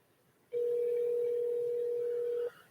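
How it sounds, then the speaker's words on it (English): Ringback tone on a telephone line while a call is placed: one steady, loud, unbroken tone lasting about two seconds before cutting off, with quiet background and no talk. "Phone is ringing."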